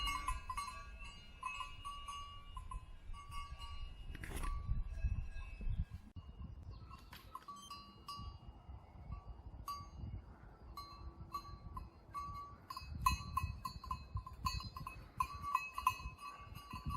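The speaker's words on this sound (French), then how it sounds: "les petites chèvres" Small goats bleat faintly in an open Swiss lakeside pasture near Lucerne, with scattered distant calls and possible bells over soft ambient outdoor noise.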